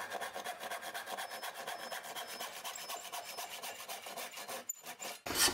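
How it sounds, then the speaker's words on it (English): A tenon saw cuts the haunch of a wooden tenon for a frame, ledge and brace gate door, held in a vise. Rapid, even back-and-forth rasping strokes sound close and steady, then briefly pause before a final sharp scrape. "So we're cutting haunch side of the line to leave the tenon to the thickness of the line."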